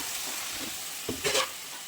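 Spice masala with turmeric frying and being stirred in oil in a pan, a steady close sizzle with soft scraping of the spoon and a brief louder burst of sizzling midway, with no talk.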